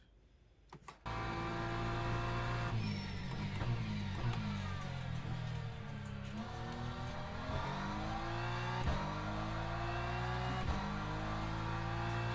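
A race car engine in a racing simulator game drives laps near Spa's La Source, a steady loud drone rising and falling through gear shifts and revs for the whole stretch after a brief quiet start.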